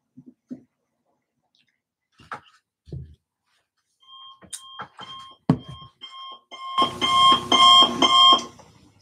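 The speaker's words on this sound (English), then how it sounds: "Fuck the alarm clock." After a few scattered knocks and clicks, an alarm clock starts ringing. It gives a loud, rapid pulsing beep that repeats for the last couple of seconds.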